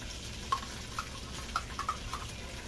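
Corned beef frying in a pan, a quiet sizzle under a few soft clicks and taps of a utensil against the pan, spaced irregularly.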